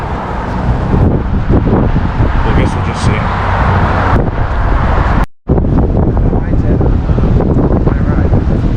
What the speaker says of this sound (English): It's pretty windy out too.